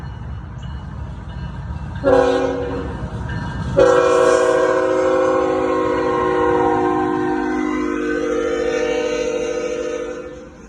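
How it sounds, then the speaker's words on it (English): A passing train sounds a loud horn, first a short blast and then a long sustained one, over a steady rolling rumble of rail cars that continues as the train goes by. "There's a train passing."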